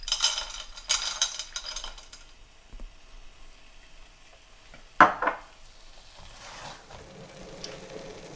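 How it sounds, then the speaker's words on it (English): Lentil halwa frying and being stirred in a pan, with scraping strokes of a spoon at the start and a louder clink midway over a low sizzle, no talk. "I've been frying and stirring continuously this halwa for about 20-25 minutes now."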